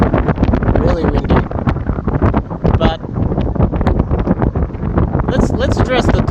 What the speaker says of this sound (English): whoa, it's windy. It's literally blowing the phone.